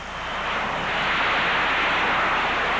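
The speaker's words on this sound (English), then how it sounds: "the last B-52 left the runway" A B-52 bomber leaving the runway at Blytheville Air Force Base in 1992, a broad, steady jet roar that swells in the first half second and then holds loud and continuous, with no voices.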